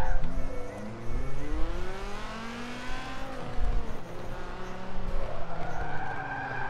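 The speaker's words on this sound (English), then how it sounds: "We were going like 20 miles an hour and it's friggin' sliding." A twin-turbo Dodge Viper ACR drag build with over 1100 hp slides in Forza Motorsport 7, its tires squealing and skidding in long wavering sweeps over a loud engine drone.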